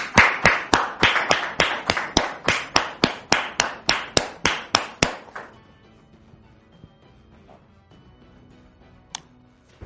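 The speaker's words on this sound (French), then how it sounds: "Merci de recevoir Dame Mariette ici sous vos applaudissements" A studio audience at a French-language TV talk show claps in tight unison rhythm, about fourteen loud, sharp claps over five seconds. The clapping then stops and leaves faint room noise.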